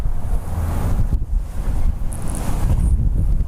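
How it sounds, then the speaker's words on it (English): Strong wind on a hilltop buffets the microphone in loud, rumbling gusts that rise and fall, with no voices heard. "It's windy up here"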